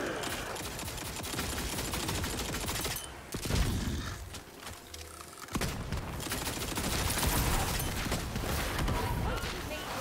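Rapid bursts of gunfire from a weapon in the video game Tiny Tina's Wonderlands, dense and continuous with a brief lull in the middle, loud and close, with a voice talking over it.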